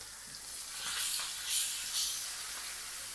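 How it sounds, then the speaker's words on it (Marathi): Pomfret fish frying in oil, a soft continuous hiss and sizzle that swells a few times as the fish settles into the pan, with no talking. "पापलेट फ्राय करायला चाललाय एक पापलेट दोन्ही पापलेट टाकू"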